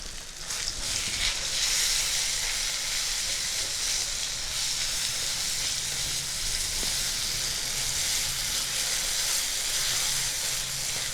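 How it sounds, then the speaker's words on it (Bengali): Ground lentil and green chili paste hits hot oil with a loud, steady hissing sizzle that holds nearly unchanged for about eleven seconds, close up and free of talk. "তেলের মধ্যে আমি ডাল এবং কাঁচা লঙ্কা যে বেটে নিয়েছিলাম সেটা দিয়ে দিচ্ছি।"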